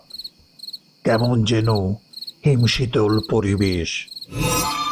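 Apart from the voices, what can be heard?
crickets chirping at night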